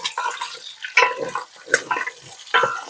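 Tap water runs into a kitchen sink in short splashing bursts during home cooking, moderately close with clattering breaks between.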